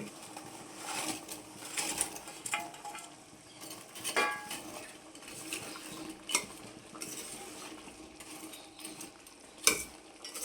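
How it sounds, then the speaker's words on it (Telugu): Bread pieces being stirred into thick sugar syrup in a pan for bread halwa, with repeated scraping and clinking of a spoon against the vessel and a few sharper metallic knocks, moderately close and with no talking. "ఈ పాకంలో ఈ బ్రెడ్ని బాగా ఉడికించుకోవాలి ఇలా కలుపుకుంటూ"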